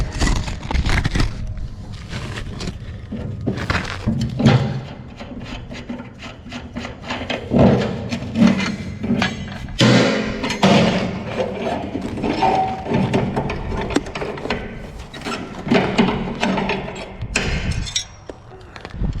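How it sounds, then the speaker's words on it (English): A wrench works a nut loose from an anodized aluminum valve rod on a surplus diesel storage tank, giving close, steady metallic scraping, rubbing and clinking with repeated knocks and no talking. "let me get this nut off and we'll see what I get here"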